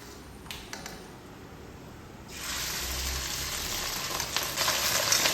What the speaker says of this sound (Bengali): এবার আমি যে মশলা দিয়ে ডিম মেখে রেখেছিলাম, সেই ডিমটা এই তেলের মধ্যে দিয়ে দেবো।